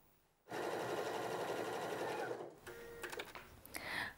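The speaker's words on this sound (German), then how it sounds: "Und jetzt könnt ihr hier schon einmal absteppen." A sewing machine topstitches an open button placket in one loud, steady whirring run of about two seconds that starts and stops abruptly, followed by faint clicks and handling noises.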